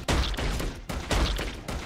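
Cannons firing in the Defend Your Life video game, loud rapid repeated booming blasts in quick succession, close and dense.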